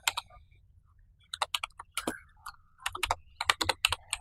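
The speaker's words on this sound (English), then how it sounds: "I will type the command search" Someone typing a command on a computer keyboard, crisp close keystrokes in uneven clusters with brief pauses and a faster burst at the end, over a low background hum.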